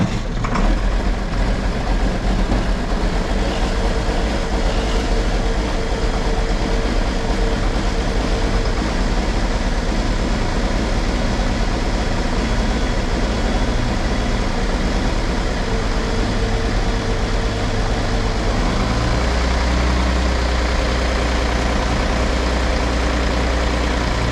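Heavy tractor engine idling steadily after starting, a loud continuous low rumble close by that shifts slightly in tone near the end, with no talking.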